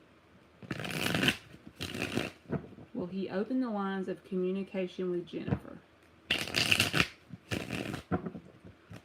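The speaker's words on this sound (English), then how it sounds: "2 more shuffles." Tarot cards are shuffled by hand in two loud, close riffling bursts. A woman asks a question aloud in the pause between them.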